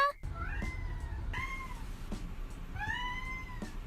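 Luigi the cat yowls in a shrill, high baby-like voice, a few drawn-out meows with upward-bending pitch, close and loud over a low background rumble.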